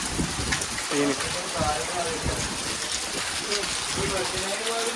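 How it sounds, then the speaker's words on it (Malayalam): Steady rain pouring down with a constant dense hiss, with a person talking over it. "ഇവിടെ ഭയങ്കര മഴ കേട്ടോ"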